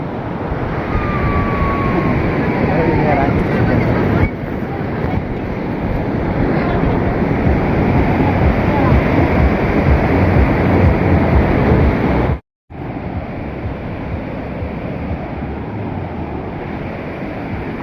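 Sea waves crash steadily on a Goa beach in a loud, continuous roar of surf mixed with wind buffeting, cut by one brief gap.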